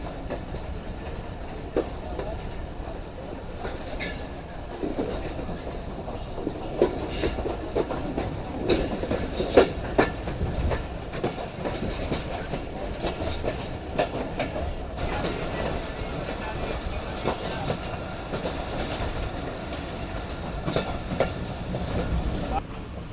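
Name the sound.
Jaffer Express train with Chinese locomotive approaching station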